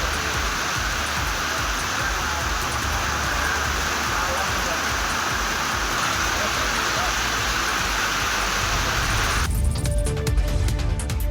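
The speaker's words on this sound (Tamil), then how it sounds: "மழை பெய்தது" Steady rain falls across districts around Arcot, Walajapet and Ranipet in Tamil Nadu, a dense even hiss that runs unbroken for about ten seconds before the sound shifts abruptly near the end.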